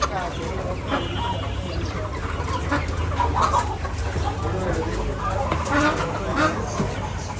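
A busy cluster of chickens clucks continuously at close range in a poultry shop in Cox's Bazar, with people talking underneath the steady clucking.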